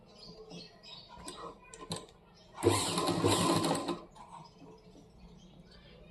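A sewing machine stitches blouse piping with an invisible piping attachment in a short whirring burst of about a second and a half, close and moderately loud, framed by quieter handling and soft clicks before and after.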